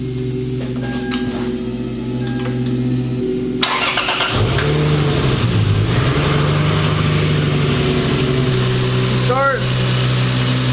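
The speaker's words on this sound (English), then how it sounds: "Starts." A Lexus IS300 engine cranks and fires a few seconds in, then settles into a steady, loud, close idle with a brief rise in revs just after it catches.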